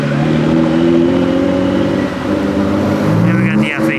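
An orange Ford GT supercar revs at a car week gathering in Carmel, its engine note swelling and falling nearby under crowd noise and distant voices.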